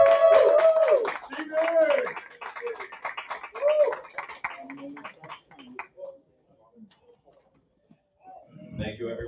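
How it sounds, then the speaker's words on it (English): Audience applause greets a city council at-large candidate at a campaign event: sharp clapping runs under a speaking voice at first, then thins to scattered claps and dies away. "let's give a big applause for Stephen Hook"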